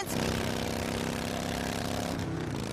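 A motorcycle engine runs steadily, a loud, dense, buzzing drone with a constant pitch that holds for the full span before easing slightly at the end.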